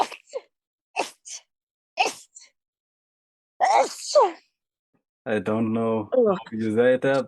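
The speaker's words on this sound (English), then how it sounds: "Gesundheit." A single sharp sneeze bursts out at the start, followed by a few short breathy sounds, then people talk at close range.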